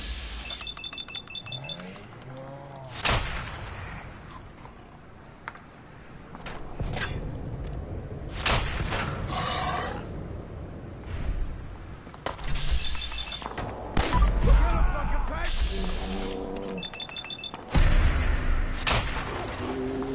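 Gunfire in a Fallout 4 video game firefight, with scattered heavy blasts and shots between quieter stretches, some chirping game effects, and loud bursts toward the end.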